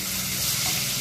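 Spices tempering in hot oil give a steady, close sizzle with a dense hiss that holds at an even level throughout the short stretch, and no voices are heard.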